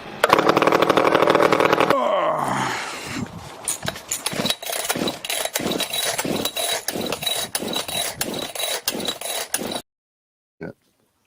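A chainsaw engine revs loudly, then sputters and settles into a rough, pulsing idle with regular beats before cutting out, followed by a single faint knock.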